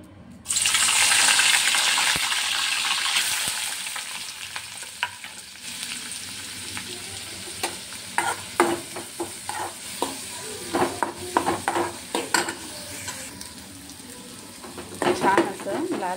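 Chopped onion frying in hot oil in a kadhai with tomato, curry leaves and green chilli: a loud sizzle bursts in, then settles into steady frying with frequent scraping and clinking of a spoon stirring against the pan.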